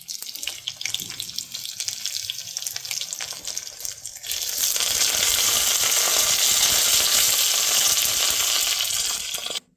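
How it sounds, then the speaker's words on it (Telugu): Tempering spices, garlic, curry leaves, mustard seeds, cumin and dried red chillies, fry in hot oil for tamarind-leaf lentils; quieter crackling at first swells into a loud, dense, continuous sizzle partway through. "ఇప్పుడు తాలింపులన్నీ ఫ్రై చేసుకుందాం. వెల్లుల్లిపాయలు, కరివేపాకు, ఆవాలు, జీలకర్ర, ఎండుమిర్చి."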